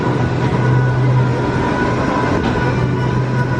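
A theme park ride train at Pleasure Beach rumbles steadily nearby, a loud continuous low roar with a humming drone and no talk.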